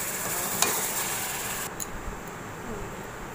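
Chicken pieces dropped into hot fried spice paste for a chicken kosa gravy, giving a steady, close, loud sizzle with a brief stir clatter and settling frying hiss.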